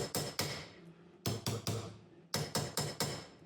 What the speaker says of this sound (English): We're going to go ahead and tap that shock down into place